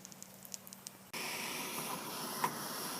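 A torch is switched on at once and keeps up a loud, steady roaring hiss while it burns down ash residue on a tray, following a quiet stretch of faint ticks.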